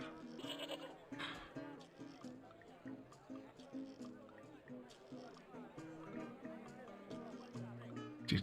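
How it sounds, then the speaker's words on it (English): Goat in the video game Broken Sword 2, bleating in wavering cries over music and other game sounds, with a voice talking throughout. "His nemesis, the goat."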